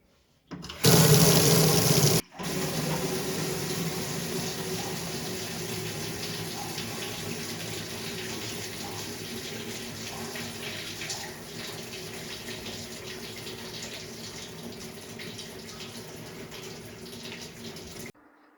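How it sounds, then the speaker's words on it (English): Hot water gushes steadily from a tap after a brief louder burst, a constant rushing flow that carries on at an even level, with no voices. "Next, we'll turn on the hot water until the pressure becomes 0."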